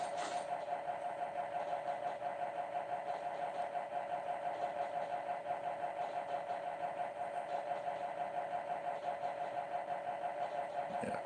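A steam locomotive engine in the SL De Ikou train game runs steadily, a constant droning hum with a faint, even chugging pulse that stays level throughout.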